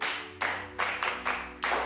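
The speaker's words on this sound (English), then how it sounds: "Clap for him" A group claps hands in unison to cheer someone on, giving five sharp, evenly spaced claps that ring close and loud with no talk over them.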